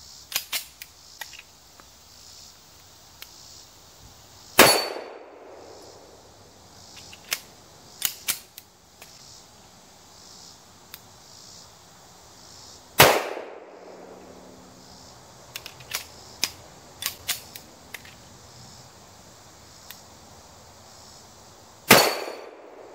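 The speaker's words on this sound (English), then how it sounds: "we're going to shoot one magazine two-handed, one at a time without the magazine in the well" Sig Sauer 1911 pistol fired one shot at a time, two-handed, from a magazine: three loud, sharp reports spaced several seconds apart, with clicks and handling noises of the gun in between.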